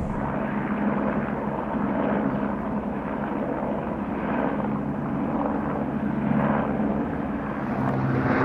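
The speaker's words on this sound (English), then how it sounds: "I am giving the helicopter that is right above me the thumbs up." A helicopter drones steadily overhead, a constant whirring rotor noise with a low rumble that holds at the same loudness throughout.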